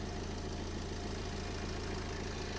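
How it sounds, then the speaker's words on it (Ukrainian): A Renault Trafic 2013 2.0 diesel engine idles close by, a steady, even low throb with a regular rhythmic knock and no voices. "Рівненька робота мотору"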